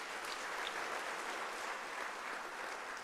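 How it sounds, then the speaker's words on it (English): A crowd at an academic-year opening ceremony applauds steadily, a dense wash of clapping hands sustained at even volume throughout. "Can I request that you give them a round of applause?"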